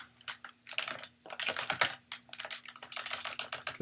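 Quick, close keystrokes on a computer keyboard sound in uneven bursts while code is typed, a steady clatter of light clicks with no talking.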